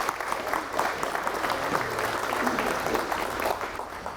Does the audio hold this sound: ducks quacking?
no